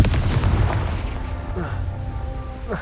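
A Confringo fire spell bursts in the Hogwarts Legacy video game with a heavy, rumbling boom that rolls on through the whole moment, loud and close, with a few faint game effects trailing at the end.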